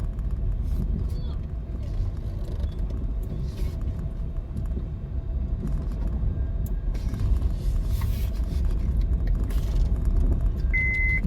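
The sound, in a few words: car being parked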